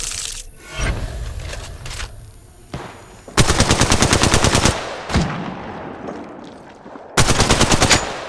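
Automatic gunfire in the mobile battle-royale game Apex Legends Mobile: two loud, sustained bursts of rapid shots, separated by quieter in-game rustling and clatter.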